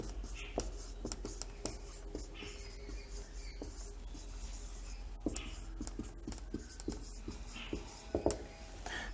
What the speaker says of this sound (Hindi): तो हम टॉपिक लिख रहे हैं